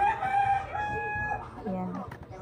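A rooster crows close by, one long drawn-out call with a voice murmuring faintly underneath.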